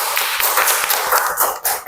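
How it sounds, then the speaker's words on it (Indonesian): Classroom applause for a student, a dense patter of many small hands clapping together for about two seconds, steady and close without pause. "tepuk tangan untuk Bilkis"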